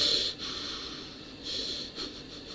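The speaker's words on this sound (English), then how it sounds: "you'll probably just hear me doing breathing like" A streamer's close breathing while working quietly at a computer: steady, soft airy hiss with a few sniff-like bursts and brief pauses, alone, with no speech.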